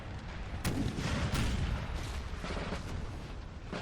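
Napoleonic battle in Napoleon: Total War at Austerlitz, with continuous rolling musket volleys and booming artillery blending into a dense, loud, distant-sounding din.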